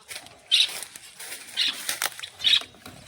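Java sparrows flap their wings inside a cage in three quick, separate flutters about a second apart, each a brief papery burst close by, with faint rustling between.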